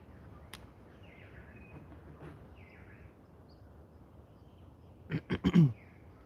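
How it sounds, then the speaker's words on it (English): Faint bird chirps and calls drift in the background of a quiet scene, with a short burst of louder, closer chirping near the end. "Can you guys hear those birds in the background?"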